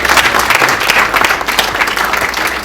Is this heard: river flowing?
no